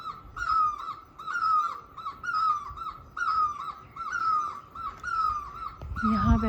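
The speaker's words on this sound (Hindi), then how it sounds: "2 चिड़ियाएँ आपस में बातें कर रही हैं।" Two birds call back and forth in a steady rhythm, trading short cawing notes about every half second over several seconds, moderately near, with a brief low voice at the very end.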